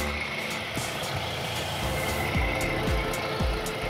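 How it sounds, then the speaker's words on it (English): A steady car engine idle rumbles close by with a coolant-related fault, a low continuous drone with a few faint knocks, no talking. "Engine sounds healthy enough."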